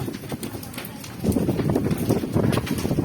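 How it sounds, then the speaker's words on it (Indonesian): Strong gusting wind roars loudly around a house fire scene where two residents' homes are burning, the broadband rush growing heavier partway through, with voices faintly present underneath. "Angin kencang."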